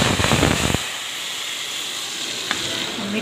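A loud burst of sizzling as a hot oil tempering hits a pot of lentils, then a softer lingering hiss that crackles faintly as it settles.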